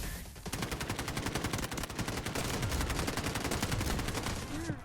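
Rapid automatic gunfire from a shooter video game with a CI-19 weapon skin, loud and close, rattling in sustained unbroken bursts for about five seconds during an assault on an objective.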